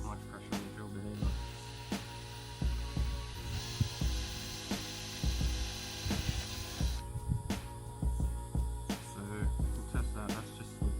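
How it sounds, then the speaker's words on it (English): Close, moderately loud drill with a 6mm bit boring through a plastic Subaru STI fog light cover, a whirring grind interrupted by short stops and bumps. "It's fairly easy to drill through, so you want to be careful not to do it too quick."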